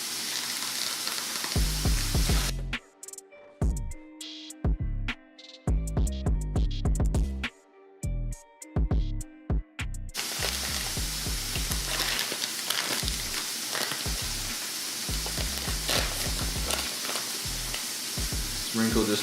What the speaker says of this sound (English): Start a couple strips of beef here. Then we're gonna throw some Baja quinoa mix